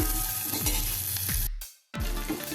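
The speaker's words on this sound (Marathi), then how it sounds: "दोन टेबलस्पून आपण कांदा घेतलेला आहे बारीक चिरून घेतलेला आहे तो थोडासा आपण परतून घेऊया" Finely chopped onion for a Punjabi dhaba-style masoor dal tadka sizzles steadily in hot oil as a spoon stirs it in repeated scrapes, with a brief gap of near silence before the frying resumes.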